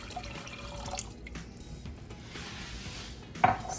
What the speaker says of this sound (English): What we're gonna do is add the rest of the water.